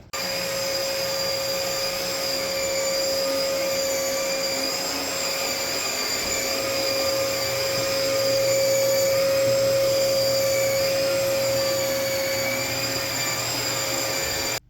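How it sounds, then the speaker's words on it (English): An 8-gallon HEPA-certified shop vacuum runs steadily and loudly on its own, with a constant motor whine and airflow roar that holds at an even level throughout. "We also like to have this smaller HEPA vacuum. It's an 8-gallon, HEPA certified, so it does a really good job sucking in the smallest of particulates."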